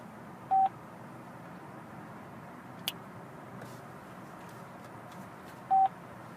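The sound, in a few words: OnStar in-car system dialing tones trying to connect a call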